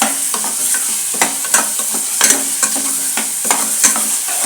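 Masala for a Rayalaseema-style shahi chicken curry sizzles steadily in a pan while a spoon scrapes and stirs it in irregular strokes, close and clear, with no voices.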